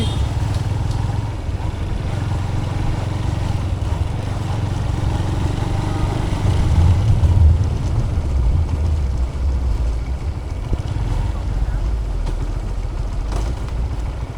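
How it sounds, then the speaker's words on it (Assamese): A motorcycle engine idles and runs steadily nearby, a continuous low rumble that swells briefly mid-clip before settling, with no speech over it. "বাইকখন নুমাই দিওঁ ৰ'বক"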